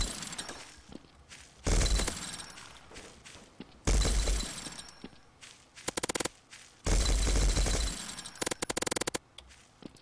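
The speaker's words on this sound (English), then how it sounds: "Survive an apocalypse," Machine gun fire in Garry's Mod during a zombie apocalypse game, coming in three loud bursts of rapid crackling shots separated by quieter stretches of scattered clicks and faint game noise.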